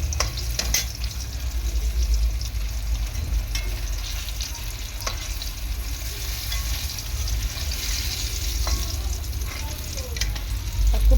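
Pumpkin slices deep frying in hot oil, a continuous crackling sizzle with occasional sharper pops and the odd clink of stirring, heard up close with no talking.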